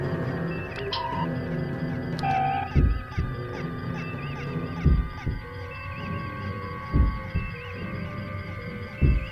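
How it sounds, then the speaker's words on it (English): A heartbeat sound effect from the Star Trek Continues series beats slowly and heavily, in about five deep thumps spaced a second or two apart, under a steady electronic hum and bridge bleeps. "That's a heartbeat."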